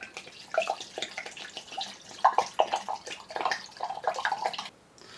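Liquid alcohol poured into a water filter pitcher, giving a steady splashing, trickling pour with uneven bursts over several seconds, fairly close and moderately loud, then stopping abruptly near the end.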